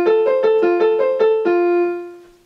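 Original major-key accompaniment of a violin duet from Op. 98, a bowed string figure of repeated short notes alternating between two pitches, ending on a held note that fades, close and clear without speech.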